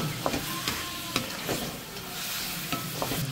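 Chopped chilli and tomato with a little salt are stirred in a frying pan, giving a steady close sizzle with repeated scraping strokes of the spoon at a loose, even rhythm.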